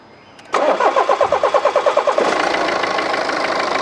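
A BMW G30 520d engine cranks with rapid rhythmic chugging for a couple of seconds, then catches and settles into a steady running hum, loud and close.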